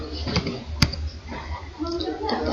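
Computer keyboard keys clicked while typing a terminal command to run a Node.js JavaScript file, with a sharp Enter press near the start and lighter taps, under a speaking voice.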